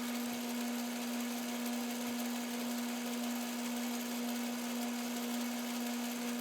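Steady whine of a lathe spinning camping table pins while they are polished with a Scotch-Brite pad, a constant droning hum with a strong fixed tone and no pauses throughout.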